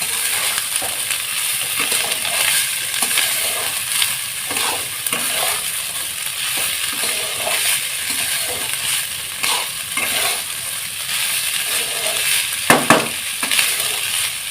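Leftover cooked rice stirred in a hot pan for jeera rice, a continuous sizzle with repeated scraping and tossing strokes of a spatula, plus a couple of sharper clinks against the pan toward the end.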